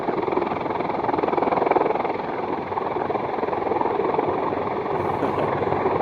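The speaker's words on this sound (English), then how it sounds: "it's definitely the wind coming off the helicopter" A giant military helicopter taking off and landing nearby, its rotors and rotor wash making a loud, steady roar that rumbles continuously throughout with no break and no voices.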